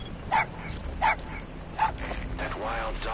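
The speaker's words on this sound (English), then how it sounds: "That wild dog pup." A wild dog pup in Metal Gear Solid 5 gives three short, high whimpering yelps spaced about a second apart. Low game ambience runs underneath, and a faint voice is audible near the end.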